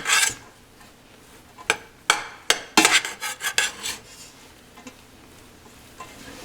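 A spoon stirs plain white rice in a pot, making a string of sharp metallic clinks and scrapes in irregular bursts, several knocks clustered together, close and clear with no talking.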